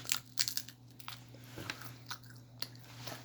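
Close, crisp crunching of crispy fried chicken being bitten and chewed, a handful of sharp crackly bites spaced irregularly over quiet background.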